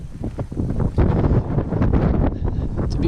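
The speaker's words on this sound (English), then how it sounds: "It's a bit breezy, I'm just trying to hide here out of the wind." Breezy wind buffets the microphone outdoors on an exposed walking track to the Needles in South West Tasmania, a steady loud roar with gusty surges throughout.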